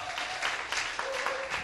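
Studio audience applause greets a guest walking onto a Korean startup talk show stage, a broad, steady crackle of clapping filling the short moment with a few brief tonal accents over it.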